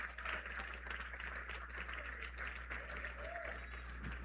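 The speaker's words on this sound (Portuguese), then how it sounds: "Se é para ele, pode bater palmas bem fortes." A church congregation claps hands loudly in a sustained, crowded round of applause. A low electrical hum runs steadily underneath.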